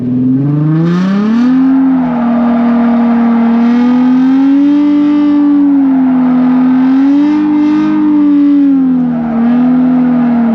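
A Nissan R33 GT-R engine held at full throttle, a loud, steady, close roar whose pitch wavers up and down as the car circles, with no talk over it.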